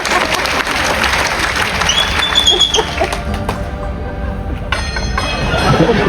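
Audience applause for a rope and ring magic trick, a broad steady wash of clapping throughout that thins slightly toward the end.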